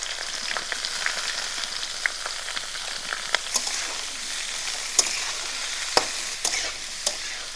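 Jackfruit sizzles steadily as it fries in hot oil, with a continuous crackling hiss close by and scattered scraping knocks of stirring throughout.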